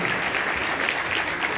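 An award ceremony audience breaks into a thick wash of steady applause, even and continuous for the whole stretch, moderately loud and with no talking over it.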